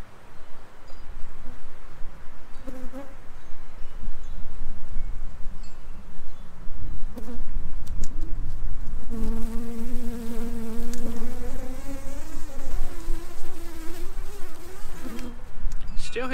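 Honeybees swarm around an open beehive during a hive check, producing a dense, continuous buzz close to the microphone, with droning pitch swells from individual bees passing near.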